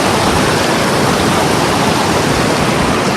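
Icy mountain stream water rushes over stones in Naran valley, a dense, loud and unbroken broadband roar held close for the whole stretch without any voices.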